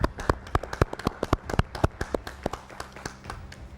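A small studio audience on an arts and culture panel show clapping briefly, a sparse handful of distinct claps with uneven rhythm, fading toward the end.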